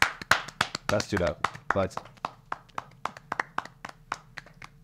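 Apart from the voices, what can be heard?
podcast hosts clapping at the end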